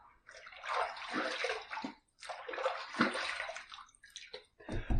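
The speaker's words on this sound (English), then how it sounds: "Let's rinse." Water splashes and sloshes as a face is rinsed after shaving with an aluminum safety razor, in two long wet bursts of cupped-hand splashing followed by drips and a final short splash, close and fairly quiet.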